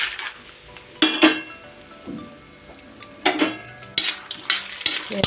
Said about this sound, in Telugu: ఇప్పుడు వేరుశనగ గుళ్ళు వేపుకున్నాం.